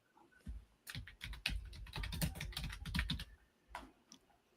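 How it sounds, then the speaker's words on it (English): Heavy, rapid typing clatters on a noisy computer keyboard up close, in irregular bursts of loud key strikes with brief pauses, no voices. "There's some heavy typing right there."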